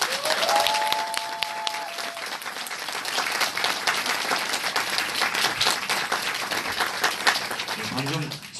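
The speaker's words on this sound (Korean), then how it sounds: "그럼 맹동규 사장님을 모실 때 큰 박수 부탁드리겠습니다." Audience at a Nu Skin morning-school business meeting claps steadily to welcome the next speaker, a dense, sustained wash of applause that stays loud for the whole stretch, with a few faint voices underneath.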